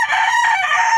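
A fighting rooster, a gamecock, crows loudly and close up in one sustained, strained call lasting about a second, with no other sounds around it.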